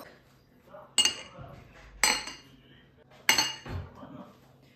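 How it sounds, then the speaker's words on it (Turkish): Glasses and dishes are set out on a table with coloured coasters, making three sharp clinks a second or so apart, each trailing off, with quiet kitchen background between them. "Hemen bardaklarımızı ayarlayalım."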